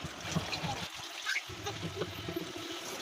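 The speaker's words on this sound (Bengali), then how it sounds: "শিং মাছগুলো দু থেকে তিনবার ধুয়ে ধুয়ে পরিষ্কার করে নেবেন" Stinging catfish are rinsed in water, producing soft close trickles, splashes and sloshing with a short quiet gap in the middle.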